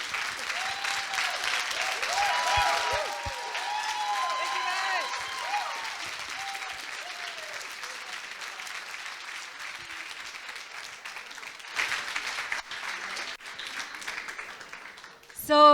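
Audience applause at a coding bootcamp demo day in Montreal, dense clapping with some cheering voices at first, then a steady, slowly fading round of clapping from a large crowd, swelling again briefly near the end.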